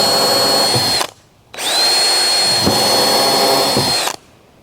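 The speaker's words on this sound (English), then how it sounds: "I will drill 2 holes there." A power drill whines loudly and close up in two long bursts separated by a short pause, its motor pitch rising quickly at each start and holding steady while drilling holes.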